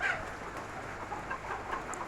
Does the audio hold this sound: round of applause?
no